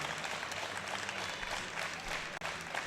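A crowd at the 2019 World Classic Powerlifting Championships, men's open 83 kg group, claps in a steady, dense roar of applause that fills the hall and holds briefly.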